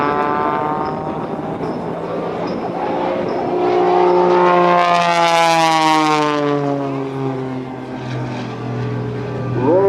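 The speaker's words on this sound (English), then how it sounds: "Rolling the aircraft to the left, back to the right, Michael Mancuso" An aerobatic propeller airplane performs at an air show, its engine droning loud and close, rising in pitch to a peak as it passes overhead, then falling away with a sweeping Doppler whine.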